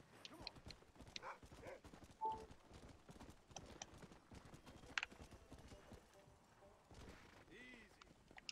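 Horse hooves clip-clop in a quick, steady rhythm in the video game Red Dead Redemption, with a short whinny and faint talking mixed into the background.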